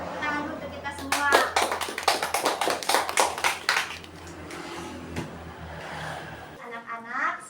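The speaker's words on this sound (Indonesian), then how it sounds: "Ayo kita tepuk tangan dulu untuk kita semua." A classroom of children clapping together, a burst of rapid, uneven applause lasting a few seconds up close, with a woman's and children's voices before and after.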